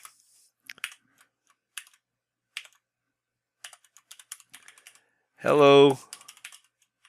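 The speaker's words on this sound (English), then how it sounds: "I'm going to click right here in the center, and I'm going to type in" Computer keyboard typing while writing a first Python program, scattered quick clicky keystrokes in short bursts with pauses, close and crisp, interrupted once by a brief spoken word.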